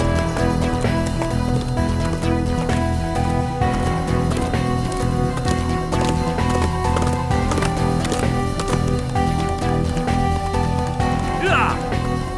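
A horse's hooves clip-clop at a gallop as a rider sets off toward the hills, half-buried under loud, sustained dramatic music with voices mixed in.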